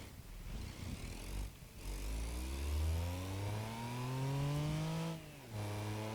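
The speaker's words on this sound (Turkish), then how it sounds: "bu motor çok sesli." A car engine in the game BeamNG.drive revs up steadily, its droning pitch climbing, dropping at two gear shifts, then climbing again; moderately quiet, no voices.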